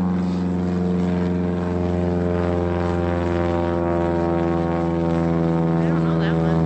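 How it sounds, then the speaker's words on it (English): Propeller airplane flying over in Alaska, a loud steady droning engine hum that holds constant throughout without fading. "Airplane."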